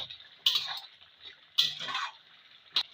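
Red chicken kosha stirred in a pan: three sharp scraping strokes of a spatula against the metal, each followed by a soft sizzling, wet rustle, close and fairly quiet with short gaps between.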